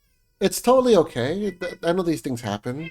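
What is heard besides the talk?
pet cat meowing in background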